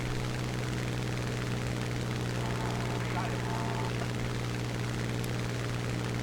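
A Spitfire propeller plane in War Thunder during a night air attack gives a steady, droning engine hum that holds unbroken from start to finish, with a faint crackle of static beneath it.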